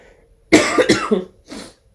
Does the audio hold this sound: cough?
yes